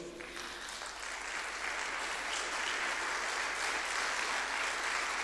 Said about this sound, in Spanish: Gracias a Dios por su aplauso a Dios.